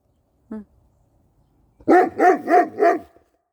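A faint short yelp, then after a pause four loud barks from a nearby dog in a quick, even rhythm.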